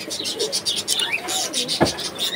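In a bird shop, pigeons coo and birds chirp in rapid bursts close by, with a brief sharp knock partway through and faint talk in the background.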